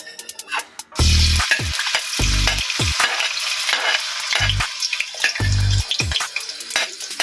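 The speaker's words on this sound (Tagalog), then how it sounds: "Igisa lang po natin." Garlic sautés in oil in a pan for pinakbet, with a loud close sizzle that surges in bursts alongside scraping stirs and brief quieter gaps.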